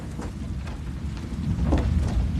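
Steady rain and a low rumbling of thunder form a continuous stormy backdrop, with wind-like noise and a swell of rumble toward the end, no talking.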